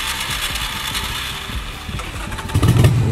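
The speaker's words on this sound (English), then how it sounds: "start your engines" Motorcycle engines idling at the start of a group bike ride, a low steady rumble that swells into a louder throttle blip near the end, with no voices.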